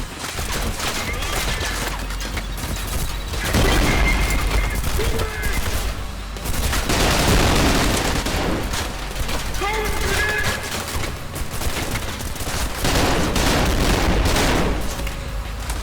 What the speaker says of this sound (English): This gun is strong, but I can't control it.